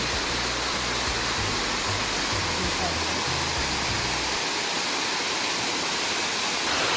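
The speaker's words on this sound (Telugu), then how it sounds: "వాటర్ ఫ్లో ఎలా అవుతుందో చూడండి బాగుంది ఫ్రెండ్స్" A waterfall flows with a dense, constant rushing hiss, loud and steady, with a low rumble in the first few seconds.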